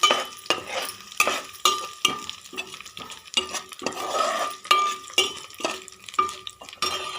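Garlic, urad dal and cumin fry in a pan while a spatula stirs them with regular scraping strokes and metallic clinks over a soft, steady sizzle, close up.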